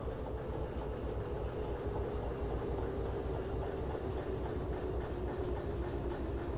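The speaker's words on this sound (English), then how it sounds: "I can now start slowing down. And in fact, I can use a train brake to do so." A train in the game Derail Valley brakes toward a stop with a steady, loud rumble and grinding of wheels on rail, continuous throughout.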